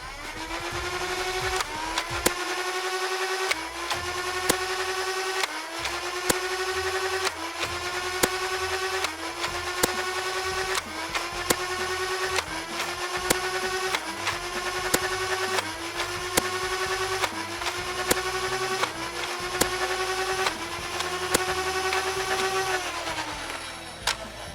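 An Adventure Force Spectrum motorized foam dart blaster fires repeatedly during a range test, each shot a whirring motor spin-up and whine followed by a snap, about a dozen shots in steady rhythm close to the microphone.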